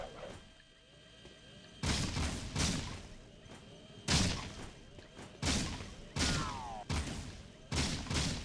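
Gunfire in the video game Jak 2, a series of separate heavy blasts with sharp attacks fired at irregular intervals, each followed by a short decay, over quiet background sound.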